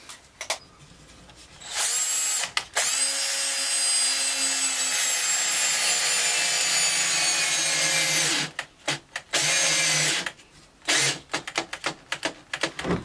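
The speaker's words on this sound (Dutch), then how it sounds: "Via de achterkant schroef ik het vast." A cordless drill drives a screw into wood from the back side, a long steady whirring run followed by shorter bursts and stops as the screw seats, close and alone without talk.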